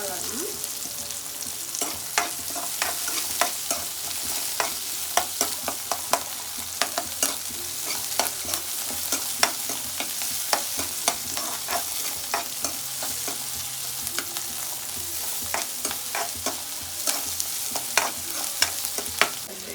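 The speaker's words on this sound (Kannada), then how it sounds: "ಫ್ರೈ ಮಾಡೋಣ ಈರುಳ್ಳಿನ ಸ್ವಲ್ಪ ಚೆನ್ನಾಗುತ್ತೆ" Onions frying in a pan for a Karnataka-style okra stir-fry, a steady close sizzle with frequent sharp crackles and pops and the scrape of stirring, continuing without talk throughout.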